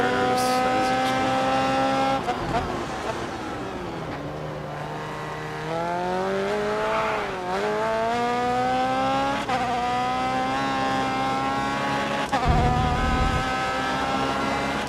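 Open-wheel race cars in the video game Grid Autosport, racing against AI drivers, scream past with loud, continuous engine whine that climbs and dips through gear changes, with brief tire squeals and no voices.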